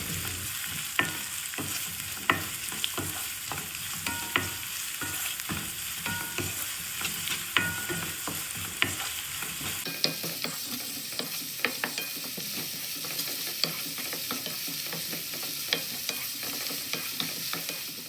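Chopped onion with a little salt sautéing in a pan until transparent, a steady close sizzle punctuated by repeated spatula stirs and taps, with no one speaking.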